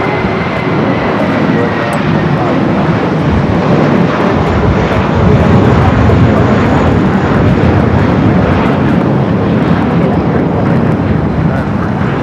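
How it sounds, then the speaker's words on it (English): A Boeing 777 taxis toward the gate at LAX Terminal 4, its jet engines producing a loud, steady roaring rumble with a faint high whine, while a voice talks over it. "Getting closer to bringing that 777 into the gates there at Terminal 4"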